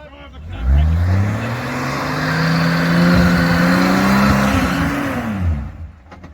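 A Nissan G60 Patrol 4WD engine revs hard in first gear while climbing an off-road track in the Victoria High Country, a loud sustained drone holding steady pitch before easing off.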